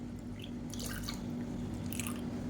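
Water is poured from a measuring cup into a cooking pot holding black kavuni rice and urad dal, a steady splashing trickle with brief brighter bursts of spatter, close and unaccompanied by talk.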